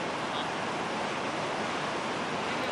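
Sea waves on the coast give a steady, dense rush of surf and wind, loud and continuous with no distinct breaks and no talking.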